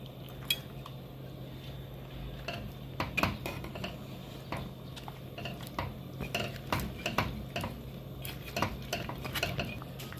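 Metal lid clattering onto a cooking pot of simmering broth with vegetables and crab, several sharp clinks and scrapes of cookware over a quiet background, fairly faint with no voices.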